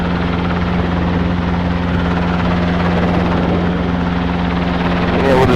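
Robinson R22 helicopter on a runway, its rotor and engine drone steady and loud throughout as it prepares to take off.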